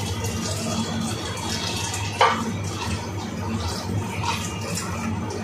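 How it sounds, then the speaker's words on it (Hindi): Water poured into a pot of boiling daal mash lentils in a home kitchen: a steady, close, noisy rush of liquid with one brief louder splash partway through and no talking. "बॉईल होने के बाद इसके अंदर हम ऐड करेंगे थोड़ा सा पानी।"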